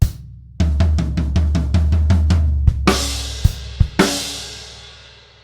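A drum kit plays a rock groove close up, with steady floor tom and bass drum hits building into a snare fill, then loud crash cymbal accents ring out and decay into a wash.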